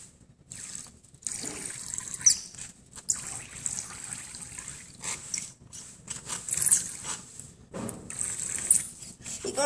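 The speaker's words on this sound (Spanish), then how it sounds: "Ahí está, les dan todo chorro de agua." Water spurts in short bursts from a Penguins of Madagascar squirt toy, with intermittent trickling splashes and pauses between squirts, fairly close.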